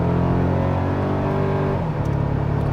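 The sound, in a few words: 2024 Toyota Tacoma TRD Sport 4-cylinder engine accelerating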